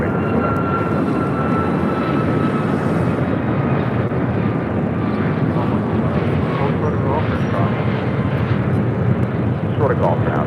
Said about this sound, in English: we got our first A380 arrival, Korean Air, Flight 17, coming in from Seoul, about to touch down on 2524 left